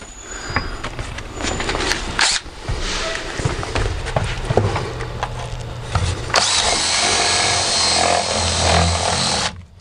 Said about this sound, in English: Now I'm going to drill the holes where I'm going to route my wire.